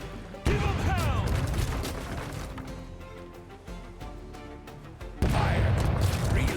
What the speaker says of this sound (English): Cannons, sound off. Give them hell!